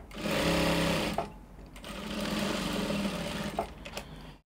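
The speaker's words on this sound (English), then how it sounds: "So I'm done stitching in my dart on the lining as well." A sewing machine stitches a dart into dress lining for a princess-dart bustier dress, running in two close bursts separated by a short pause, with light fabric handling between them.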